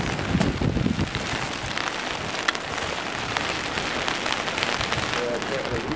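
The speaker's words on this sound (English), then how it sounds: "In the rain," Rain falling on a rooftop makes a dense, steady patter with scattered sharper drops, heard close and continuous; faint voices may be present underneath.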